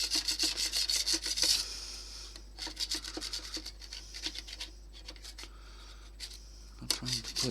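Paint is scraped off a bakelite radio case in bursts of close, scratchy rasping strokes separated by short pauses, with no voices.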